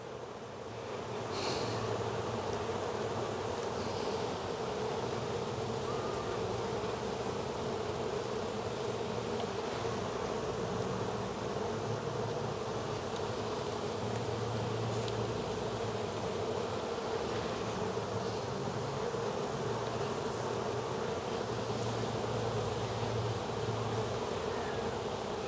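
Honeybees buzz steadily during an autumn hive inspection, a continuous even drone of many insects close to the microphone, with no talk over it.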